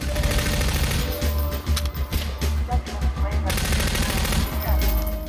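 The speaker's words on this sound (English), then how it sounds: "I will mainly shoot you in the kneecaps" Gunfire in the Half-Life 2 video game, rapid bursts of shots and loud impacts repeating over several seconds, with a voice speaking over the shooting.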